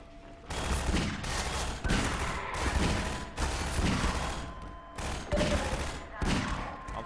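Bursts of rapid gunfire in the video game Half-Life 2 come in repeated volleys of a few seconds each, separated by brief pauses, with faint talk beneath.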